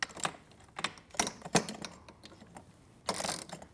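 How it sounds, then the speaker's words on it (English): Metal Allen wrench ratcheting and clicking as it tightens bolts on metal posts, a series of close, sharp taps and scrapes with short pauses and a longer grinding burst near the end. "I'm just going to quickly switch so that I have more leverage by using the short end of the Allen wrench."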